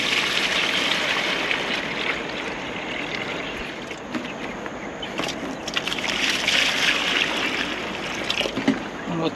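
Water poured for washing, a continuous splashing, sloshing stream close by, fairly loud and steady for several seconds, with a few brief knocks and clatters over it.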